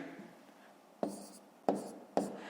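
A pen writes numbers on paper while working out a long division problem. Three sharp, quiet strokes land about half a second apart, and faint low murmuring comes before them.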